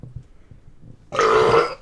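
A single long, loud human burp rises abruptly out of near silence and rumbles for most of a second before fading.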